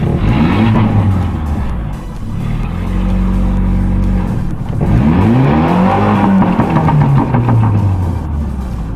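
A TT car drives up and down a road, its loud engine rising and falling in pitch as it accelerates and eases off in repeated sweeps, close by and continuous with no talking.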